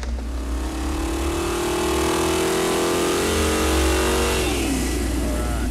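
A catalog-parts small-block V8 on a dyno makes a final pull, a loud sustained roar that climbs steadily in pitch for several seconds before the throttle lifts and the engine drops back down.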